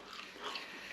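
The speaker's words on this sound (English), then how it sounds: "You can hear the crunch." Crisp crunch of a bite into an air-fried chicken drumette cooked in a dual zone air fryer, one close, dry, crackly chew over about a second with no talking.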